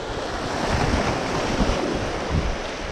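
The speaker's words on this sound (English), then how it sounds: "before I get pounded by the waves and completely cut off" Ocean waves surge and break steadily against a shallow shoreline where someone is bass fishing, with gusting wind noise on the microphone; the wash is loud and continuous with no voices.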